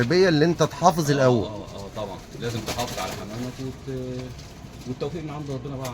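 Pigeons at a rooftop pigeon loft give deep, throaty rolling coos, repeated and close. Someone talks over them throughout.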